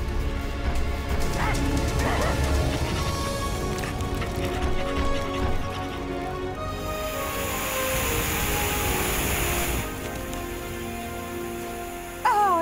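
Cartoon dogs bark and yip in bursts during a rescue scene in an animated robot firefighter show, layered over busy music and crashing effects, with a brief whimper near the end.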